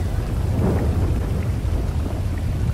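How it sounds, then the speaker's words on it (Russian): Thunder and heavy rain in the video game GTA 5 at night, a deep continuous rumble with steady rainfall hiss, loud and sustained throughout without talk. "дождь и гремит молния."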